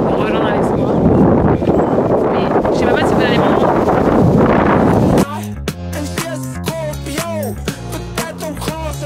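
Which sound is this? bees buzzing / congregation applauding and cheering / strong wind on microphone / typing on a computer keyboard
strong wind on microphone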